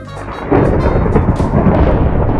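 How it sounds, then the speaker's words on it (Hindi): A summoned lightning bolt in Minecraft strikes with a sudden loud thunderclap that rolls into a sustained rumble, with a rain-like hiss beneath and no voices. "अरे बिजलियां कड़क रही है"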